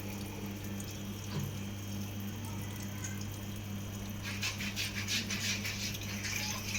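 Water pours steadily into the drum of a Samsung top-load washing machine during its fill cycle, a constant rushing flow over a low motor hum, growing louder and more splashy near the end.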